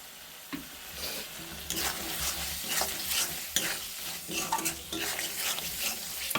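Green peas sizzle in hot spice paste as a spoon stirs and scrapes the pan in repeated strokes, close and fairly loud.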